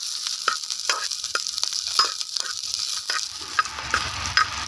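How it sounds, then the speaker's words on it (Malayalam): Dried red chillies, green chillies and garlic stir-fried in a pan make a loud, close sizzle full of crackling pops, broken by repeated stirring scrapes. "ഉണക്കമുളക് ഇട്ടിട്ടുണ്ട് പച്ചമുളക് ഇട്ടിട്ടുണ്ട് വെളുത്തുള്ളി ഇട്ടിട്ടുണ്ട് അപ്പോൾ ഇതെല്ലാം കൂടി ഒന്ന് നമുക്ക് വയറ്റിയെടുക്കണം"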